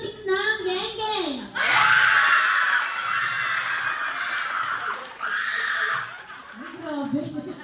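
An audience at an 80th birthday party screams and laughs in loud bursts, with a pause between them, while an announcer's voice is heard at the start and the end.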